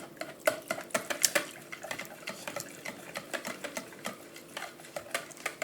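Eggs whisked into yogurt in a bowl for pancake batter, a quick irregular series of close clicking, tapping strokes against the bowl with no talking.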